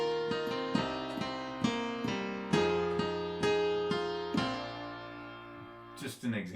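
Country-style piano chord progression decorated with slip notes in F, struck chords with sliding grace notes repeating in a steady rhythm, close and clear, ending with a short noise at the close.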